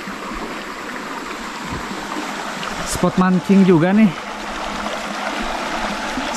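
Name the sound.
small river stream flowing, Cikembang river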